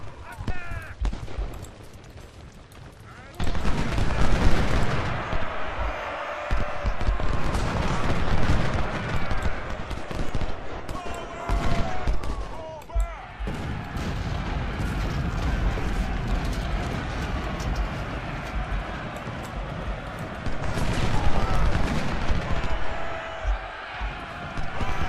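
Musket volleys crackle in the Civil War video game Ultimate General: Civil War at the Battle of Seven Pines, with dense rolling gunfire, bursts of massed shots and booming artillery over battle noise, and a player talking over it.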